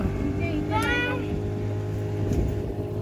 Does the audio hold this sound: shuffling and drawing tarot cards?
no